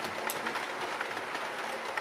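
A model train runs steadily past, giving a continuous close rumble and rattle with faint rhythmic clicking from the wheels on the track.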